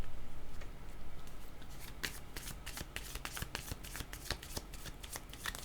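A tarot deck gets shuffled by hand nearby, giving a dense run of quick papery riffles and soft card slaps that continues steadily for several seconds in a quiet room.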